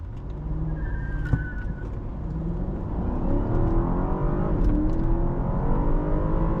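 A 2017 BMW 750i engine accelerates hard and steadily from a rolling start, its rising harmonics climbing through the gears as a loud, continuous roar builds with no talking.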